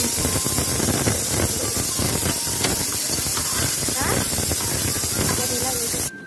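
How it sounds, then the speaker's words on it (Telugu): Sliced onions dropped into hot oil in a pressure cooker give a loud, close, steady hiss and sputter that runs unbroken before cutting off abruptly at the end. "ముందుగా కట్ చేసి పెట్టుకున్న ఆనియన్స్ని ఇందులో వేసానండి"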